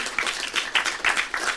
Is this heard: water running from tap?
no